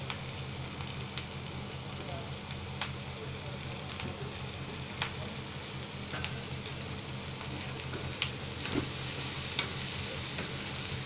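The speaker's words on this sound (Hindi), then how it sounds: "ये अच्छी तरह फ्राई हो जाए तब तक इसको हम थोड़ी देर में हिलाते रहेंगे और ढक देंगे।" Potatoes and capsicum frying in a pan as a steady low sizzle with a faint hum, broken by occasional light ticks and scrapes of stirring, quiet and continuous.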